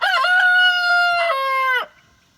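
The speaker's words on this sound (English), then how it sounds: "there's a guinea who thinks it's a rooster" A guinea fowl gives a loud, close rooster-like crow: one long, harmonically rich call with a brief break near the middle, ending abruptly into quiet farmyard background.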